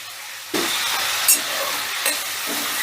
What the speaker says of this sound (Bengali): এবার ওই চিকেনের তেলে দিয়ে দিচ্ছি ফোড়ন।